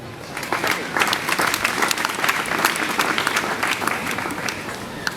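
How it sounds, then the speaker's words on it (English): A graduation ceremony audience at a university applauds faculty and staff, a full, steady roar of many hands clapping that swells in after a brief pause and carries on loudly to the end. "Join me in applauding them for their good work."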